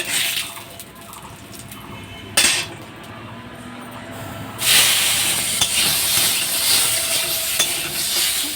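Mango pieces dropped into a hot mustard-seed tempering for mango kasundi and stirred, a loud steady sizzle with sharp bursts as the fruit lands, plus scraping from the spoon.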